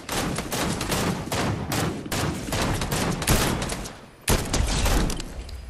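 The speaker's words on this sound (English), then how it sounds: "Oh, getting shot." Dense gunfire rattles almost nonstop as a player is hit in the Fortnite video game, loud and close, with one brief lull before the volley resumes.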